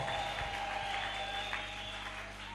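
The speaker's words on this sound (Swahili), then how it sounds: "Kama wewe ni kiumbe kipya, piga makofi kwa Yesu Kristo" A church congregation claps together, a faint, steady patter of many hands that runs continuously under a hum of room noise.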